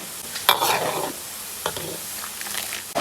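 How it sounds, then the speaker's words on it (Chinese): Red chilies, dried scallops and dried shrimp sizzle and crackle in hot oil in a home kitchen, with a steady frying hiss and occasional louder bursts as they are stirred, close and alone. "辣椒炸香，放入干贝和海米"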